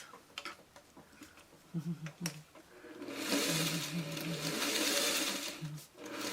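A sewing machine stitching quilt fabric, a few short bursts of rapid needle clatter and then a longer steady run, heard up close with no talk.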